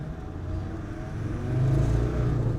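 A 1999 Land Rover Defender Td5 diesel drives down a road, its mid-pitched engine droning steadily and then swelling louder partway through as it pulls through the gears.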